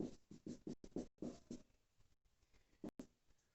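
A pen scratches out numbers on a Class 10 maths worksheet about the area of a circle segment, in short quick strokes with brief pauses, heard faint and close.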